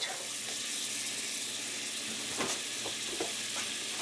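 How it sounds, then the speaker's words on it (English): Butter sizzles in a hot pan on a woodstove while it heats up to sear a roast beef; a steady hiss with a few faint clinks, close and alone. "I'm just heating this up so that I can sear the roast"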